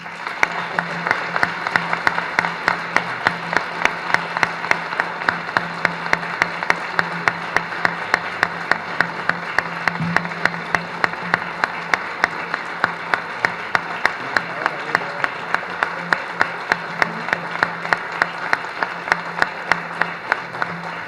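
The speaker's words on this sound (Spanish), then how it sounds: "Ahora sí, un fuertísimo aplauso." Loud, sustained applause from the audience at a university honorary doctorate ceremony, with many hands clapping in a strong, steady rhythm that holds evenly for over twenty seconds.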